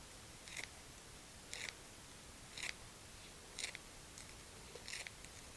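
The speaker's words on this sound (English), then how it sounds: "I've got 3 green onions, and I'm going to cut those right into the dip mixture here." Scissors snip three green onions straight into a dip mixture in the kitchen, making about six faint, evenly spaced crisp cuts roughly a second apart.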